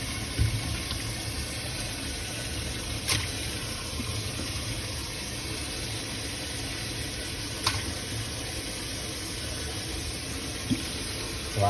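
Pork for chicharron is swished and washed in water, giving a steady close rush and slosh of liquid with a few soft knocks and no talking throughout.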